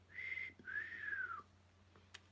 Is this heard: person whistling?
yes